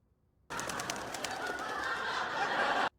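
Cooing of a pet bird named Duffy, heard from a sitcom scene playing on a TV, a continuous soft warbling coo lasting a few seconds at moderate volume, with no talk over it.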